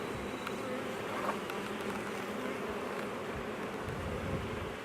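Honey bees swarm thickly in an open hive, a dense, even buzz filling the space at close range without a break.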